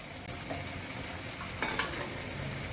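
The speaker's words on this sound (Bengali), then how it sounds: "মাছগুলো দিয়ে দিচ্ছি ঝোল ফুটে গেছে" Pabda fish going into boiling curry in a home kitchen pot, heard as a steady bubbling simmer with a couple of brief splashing clatters partway through, no talking.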